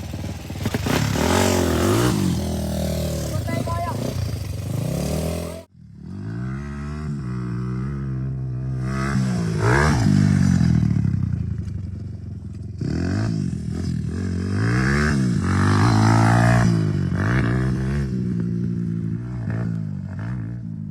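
Motorcycle engine that had not run for a long time sputters, starts and revs repeatedly, loud and close, with rising and falling roars, a brief cutout, and clattering mechanical noise throughout.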